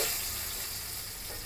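Dried chili and ginger pieces fry in a hot pan with a steady, fairly faint hiss and sizzle that lasts the whole short stretch, with no talking.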